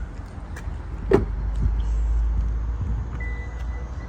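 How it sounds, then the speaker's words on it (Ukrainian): The power tailgate of a 2019 Lexus NX 300 operates, giving a short mechanical clunk followed by a low, steady electric motor hum, fairly close and with no talk over it. "Також він з електроприводом багажника."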